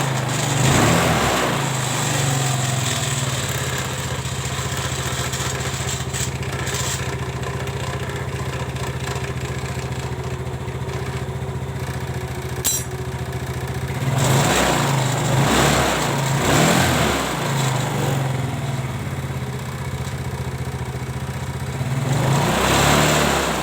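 A Yamaha Mio motor scooter engine idles steadily nearby, then is revved in two strong throttle blips with a rising buzzy whine, dropping back to idle between them, in a repair workshop setting.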